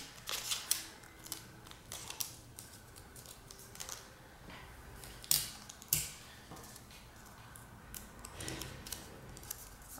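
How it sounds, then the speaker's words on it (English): Tape being pulled, torn and pressed onto a folded paper sword, with sharp crinkly rips and small tapping handling noises at close range. The sounds come in scattered irregular bursts with quiet pauses between them. "Now tape that down."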